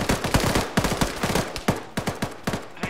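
Rapid bursts of machine-gun fire in ArmA 3 combat, sharp repeated shots crackling close and loud in uneven clusters over about three seconds, with no talking.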